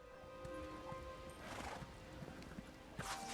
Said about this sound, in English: This is a freaking cool horse.